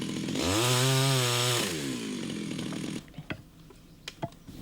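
A chainsaw, used to cut wood for building a charcoal kiln, revs loudly for about two and a half seconds, its pitch climbing and then dropping away, then a few sharp knocks and clicks follow over quiet background.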